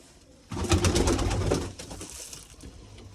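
Pigeons coo softly in a low, throaty burble that swells after a brief quiet start, then fades, with faint rustling and no talking.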